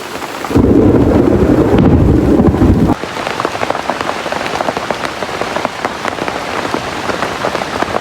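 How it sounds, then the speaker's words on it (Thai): Heavy rain pours down in a forest, with a loud, dense burst early on and then steady, close drumming on surfaces throughout. "จ้าตอนนี้ก็ฝนตกแล้วเนาะพี่น้อง"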